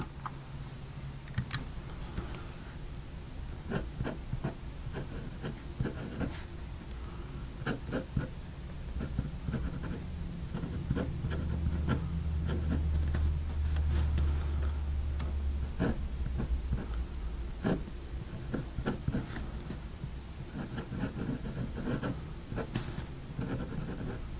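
Fountain Pen Revolution fountain pen scratching across paper in a quiet room, a long run of soft, close nib strokes and small taps with short pauses between words.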